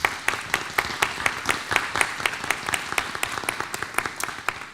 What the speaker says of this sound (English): let's just start by giving them a round of applause